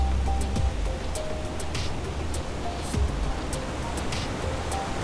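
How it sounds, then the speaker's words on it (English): Water rushes steadily beneath a suspension bridge on a forest trail in Whistler, a broad continuous roar with footsteps and a few thumps over it, and a voice or two briefly in the mix. "If there's rushing water like this, it's actually a waterfall"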